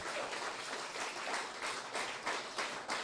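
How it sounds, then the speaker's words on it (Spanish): Church congregation applauding during worship, a fairly faint, steady spread of many hands clapping with slight rhythmic swells, heard from some distance. "Dele un aplauso al Señor"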